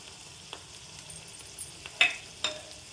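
Onion paste fries with ginger garlic paste in a pan, giving a faint, steady sizzle with a few sharp stirring clicks and scrapes near the end.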